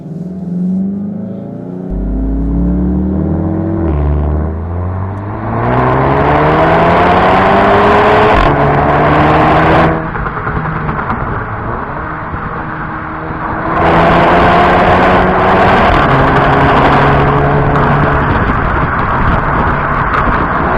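Volkswagen Golf GTI 7.5 with 227 hp engine and sporty exhaust pulling hard through the gears, loud and close, pitch climbing in repeated sweeps with brief drops at each shift.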